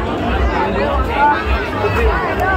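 Dense crowd hubbub at a crowded village Ram Navami fair ground with rides in Satpati, a steady wash of overlapping voices and chatter, close and continuous throughout.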